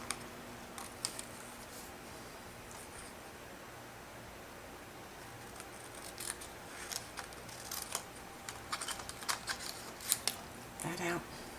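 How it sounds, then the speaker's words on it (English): Scissors cutting card paper while making a handmade card, faint snips and paper rustles scattered through the second half over a quiet room hiss. "Notice when you're cutting, it's really the paper that you're moving, that you're turning, not your scissors."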